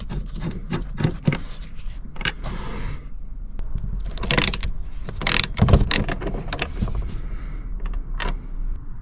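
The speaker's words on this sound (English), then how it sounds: "This is a 10mm. It's then just a case of undoing these bolts." Bolts on an Audi A3 8P Sportback front seat being undone with a 10mm splined socket, heard as close, irregular clicks, ratcheting and metallic rubbing scrapes in short bursts with brief pauses.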